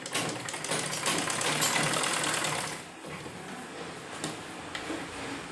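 Sewing machine stitching round the sleeve of an umbrella-style garment: a steady, fast mechanical whirr that runs loud for about three seconds, then drops to a softer, lighter run.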